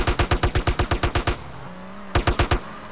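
Rapid automatic gunfire rattles in two close, loud bursts during a GTA Criminal Russia match, separated by a short pause filled with a faint engine hum.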